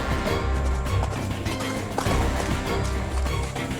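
A frightened horse bolts away, hooves thudding in a fast, uneven rhythm over loud, continuous noise, with hints of commotion around it.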